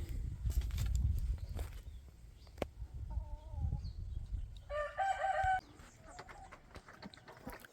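Chickens and a rooster on a backyard coop perch, with a low, rumbling background, scattered clucks, and a short crow in the middle of the clip, moderately near.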